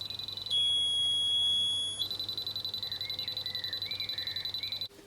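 A Bosch Truvo digital wall detector held against a live cable gives a faint, steady high electronic tone with rapid ticking pulses underneath, quiet and close with no talking.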